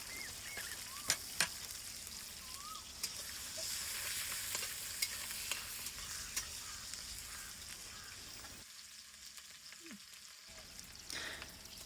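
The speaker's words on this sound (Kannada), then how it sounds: "ಹೆಚ್ಚಿದ ಮೆಣಸಿನ್ಕಾಯಿ ಹಾಕಿ ಫ್ರೈ ಮಾಡ್ಕೊಳ್ಳಿ" Chopped green chillies fry in oil in a pan on a village stove, giving a steady, close sizzle with occasional stirring clicks and scrapes throughout, with no one speaking.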